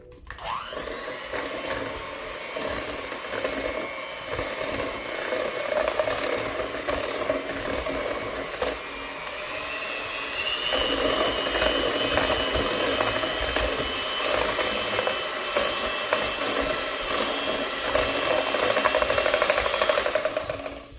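An electric mixer whips cream for strawberry shortcake, its motor a loud, steady whine that runs unbroken for about twenty seconds and grows slightly stronger toward the end, with no talking.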